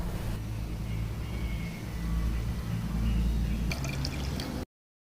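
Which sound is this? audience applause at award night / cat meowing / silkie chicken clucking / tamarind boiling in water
tamarind boiling in water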